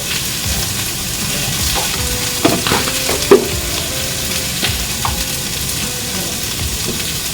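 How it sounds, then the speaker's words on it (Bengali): Potato pieces and spices are stirred and sautéed in a hot pan with salt, giving a steady sizzle broken by scraping spoon knocks and a couple of sharper clatters, close by with no voices. "আলু আর মশলা একসঙ্গে আলুগুলো কষিয়ে নেবো মশলা টশলা দিয়ে"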